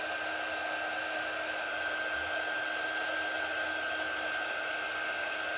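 A hair dryer runs steadily and close while drying a painted wooden pumpkin cutout, a constant loud whooshing hum with a clear whine, no talking.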